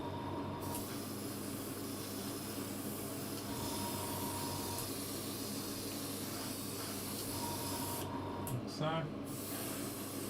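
Paint is sprayed horizontally across scale model wings for a group model build. A steady, close airbrush hiss runs throughout, with a brief pause near the end where a voice speaks a few words.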